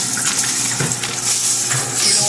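Water gushes steadily into a Manitowoc ice machine as it fills, a close, continuous rushing flow with voices talking softly over it.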